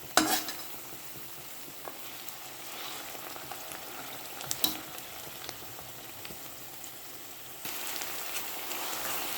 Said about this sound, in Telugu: నేను ఇంకా రోస్ట్ చేస్తున్నా.